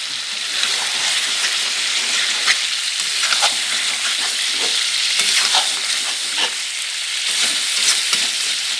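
Chicken curry cooks in a village kitchen with red-fried potatoes stirred in, a steady loud sizzle with scraping stirring sounds running throughout, no talk.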